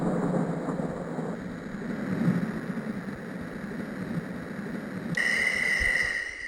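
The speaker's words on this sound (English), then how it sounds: "This is a thunderstorm." A sleep machine's thunderstorm sound: steady rushing rain-like noise with low rumbling swells, then a brief bright hiss shift near the end; a looped, low-fidelity storm ambience.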